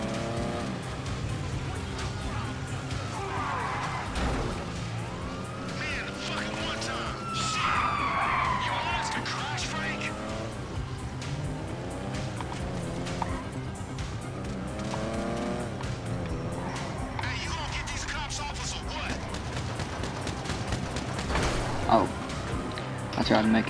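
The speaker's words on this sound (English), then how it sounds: "Oh, this car sounds so nuts." Car engine in Grand Theft Auto V, roaring and revving with repeated tire squeals and skids as it slides around. A person talks over much of it.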